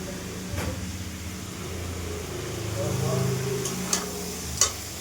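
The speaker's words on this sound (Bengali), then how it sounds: "এবার এটাকে নেড়ে চেড়ে একটু জল দিয়ে বসিয়ে দেবো।" Mustard paste being stirred in a cooking pan, a steady low scraping churn with faint sizzling throughout and a couple of brief sharp clicks near the end.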